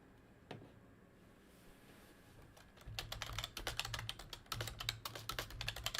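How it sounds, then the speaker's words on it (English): Someone types on a computer keyboard while standing, at first only faintly, then in a dense, rapid run of close, crisp key clicks in a quiet room. "typing standing up is kind of rough"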